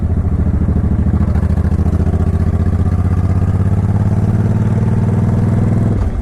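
A Suzuki Intruder motorcycle with floorboards rides into a corner, its engine thumping in a loud, steady, close pulsing drone before easing off at the end.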